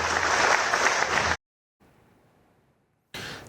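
A crowd claps for the Chief Minister at a foundation-stone ceremony for a children's specialty hospital in Tamil Nadu. A dense burst of applause cuts to near silence, then the clapping briefly returns.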